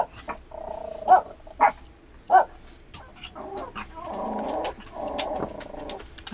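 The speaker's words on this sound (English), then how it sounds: "why my dogs are barking" Three short, sharp dog barks ring out in the first half, spaced about a second apart, followed by fainter murmuring sounds.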